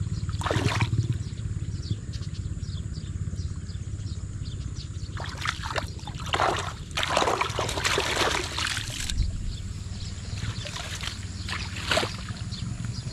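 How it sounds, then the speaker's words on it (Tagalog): Irrigation water flowing into a farm field, a steady broad rush running throughout at moderate level, with a few louder splashing bursts midway and no talk over it. "Ang bilis, patakas ng tubig."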